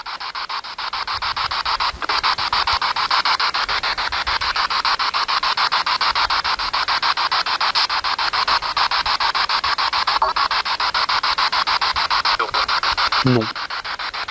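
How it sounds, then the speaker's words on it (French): A ghost-hunting spirit box sweeps the radio dial, giving a continuous harsh, scratchy static with a rapid stuttering pulse. A few faint blips and fragments break through near the end, and there is no clear speech. "la spirit box, de la petite appareil que j'ai dans ma main gauche"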